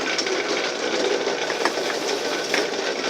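A RockCan can crusher machine with a ripple plate runs in reverse at about 50 RPM, giving a steady mechanical rattle and clatter that stays even and fairly close for the whole stretch, with no talking.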